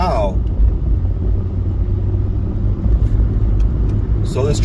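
A truck peels out on a barely wet road, its engine rumbling loud and close as it accelerates and fishtails, a steady low roar throughout with a brief tire whine at the end.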